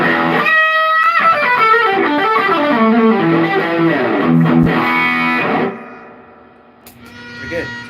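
An electric guitar plays through a Laney amp on its distortion channel, loud and sustained with a run of chords and notes, then cuts off and fades into a quiet tail.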